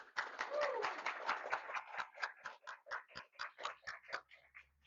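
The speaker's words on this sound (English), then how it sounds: "let's have another round of applause for Paul Weeks" Applause from an audience at an NJIT IGDA talk on making fighting games, greeting speaker Paul Weeks: a steady run of sharp claps with an almost rhythmic pulse, fairly close and tapering off toward the end.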